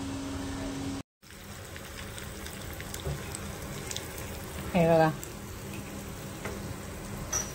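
Mustard seeds and asafoetida sizzle in hot oil for a tempering, with fresh curry leaves on hand: a steady, close crackling hiss that carries through the clip, with a brief spoken voice partway through.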